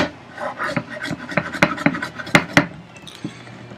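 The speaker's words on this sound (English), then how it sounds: "this is just finishing up the dado, kind of going to my line with the chisel" A chisel pares a wooden dado to the line at a carpenter's workbench, giving a close series of short scraping taps and rasps in an uneven rhythm.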